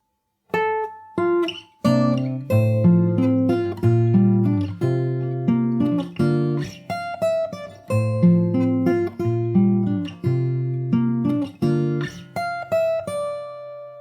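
Fingerstyle acoustic guitar plays the Animal Crossing New Horizons theme, with plucked bass notes and chords in a bouncy, steady rhythm and distinct picked attacks, heard alone and up close.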